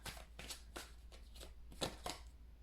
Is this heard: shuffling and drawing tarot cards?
yes